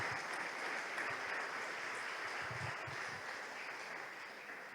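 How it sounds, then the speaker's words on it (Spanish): Steady, dense applause from a church congregation during a Spanish-language sermon, sustained at even loudness for the whole stretch and tapering only slightly at the end. "¿Cuántos le dan ese aplauso al Rey de Reyes?"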